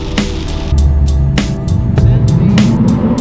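A car drives around a parking lot in pouring rain, its engine droning loudly up close while sharp intermittent clicks and knocks punctuate the steady noise.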